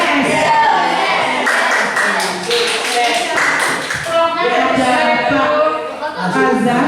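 An audience performs the rhythmic tepuk sukses clap, patterned bursts of group clapping mixed with voices chanting along, loud and close throughout.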